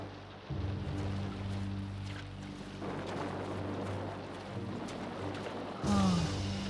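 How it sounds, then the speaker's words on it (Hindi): Heavy rain pours down in a steady, dense hiss, broken briefly by a few changes in level and a short tonal sound near the end, moderately faint with no speech over it. "बारिश बहुत तेज हो रही है।"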